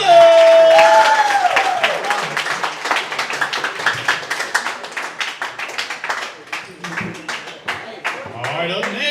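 Applause for a player introduced on a high school sports coach's show, a crowd clapping loudly with some cheering, thinning into individual claps, while a voice speaks over the opening.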